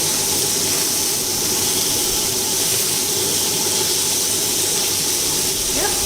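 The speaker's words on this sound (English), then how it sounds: "So you just sear it for a bit" Fish sears in a hot pan with a steady, loud, continuous sizzle and hiss that holds unbroken throughout.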